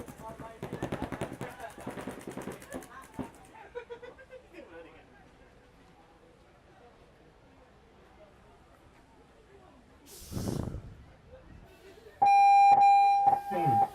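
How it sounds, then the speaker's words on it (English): A loud electronic buzzer blares steadily for about two seconds when it is pressed on a paintball tournament field during a quarter-final game. Earlier, rapid paintball marker fire and voices are heard. "Imperia has claimed that point by pressing the buzzer"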